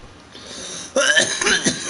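A person coughs in a short, loud, close burst of harsh hacks after a quiet lead-in, right after a big hit of smoke.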